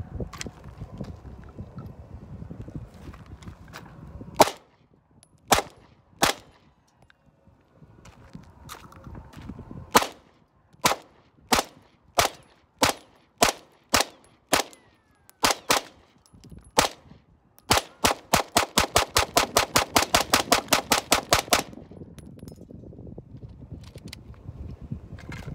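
A Glock 26 pistol fed from a 50-round drum fires outdoors on the Fourth of July: sharp separate shots at uneven intervals, then a fast rapid-fire string of closely packed reports, with light wind noise between.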